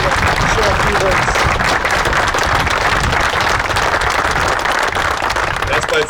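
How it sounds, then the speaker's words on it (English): Steady, loud audience applause for Landmark's CEO Jason, continuous dense clapping from a large crowd at an event. "please give Jason a big round of applause as he comes on up here"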